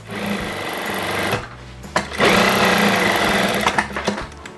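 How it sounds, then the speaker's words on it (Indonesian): A sewing machine runs a straight seam on a double-welt (paspol) pocket: a steady close whir that pauses briefly partway through, then resumes at full speed. "tinggal kita jahit lurus ke bawah"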